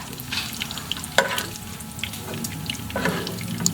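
Pork fat renders and fries in a pan for ginisang monggo, a steady close sizzle and crackle with scattered louder pops and a few clinks from stirring.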